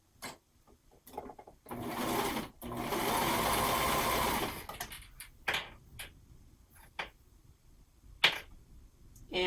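A sewing machine stitches elastic onto a romper, running in one sustained burst between short stop-start runs and scattered clicks and handling taps, close and clear.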